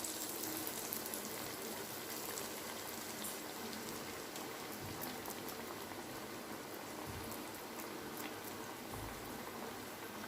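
Chickpea vadai dropping into hot oil one by one, a dense, loud bubbling and sizzling that stays steady throughout with a few low thuds, no voices.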